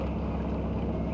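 Boat engine in the eSail sailing game drones as a low, steady hum, faint and unbroken across a brief moment with no talk.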